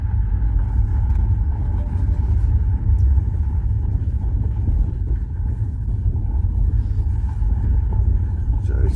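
A hire car travelling along a dirt track to farmland in central Portugal, heard from inside as a continuous low engine and tyre rumble with gravelly road noise, steady and fairly loud throughout.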